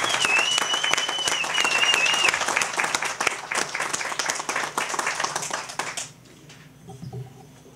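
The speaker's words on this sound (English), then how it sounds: "let's give them a great round of applause" An audience at a Native Pride 25th anniversary press conference breaks into lively applause of many sharp individual claps. A faint whistle runs over it early on, then the clapping tapers off abruptly, leaving quiet room noise.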